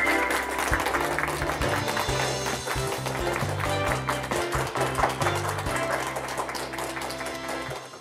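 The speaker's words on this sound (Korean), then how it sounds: "교수님을 큰 박수로 맞이해 주시기 바랍니다" A studio audience at a lecture on epidemics and history claps to welcome a professor. The clapping is moderate and scattered over a steady music bed and continues evenly.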